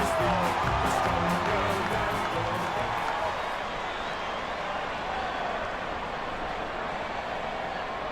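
Steady roar of a stadium crowd cheering in an AFL football video game, Fremantle against GWS, as the teams run onto the field; a dense, continuous wash of noise that stays loud and fades only slightly toward the end.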